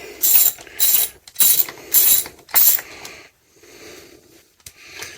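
A ratchet tool works a screw loose on a Honda Goldwing heel-and-toe footplate, five loud rapid clicking bursts with short gaps, then quieter scraping turns, close up with nobody talking.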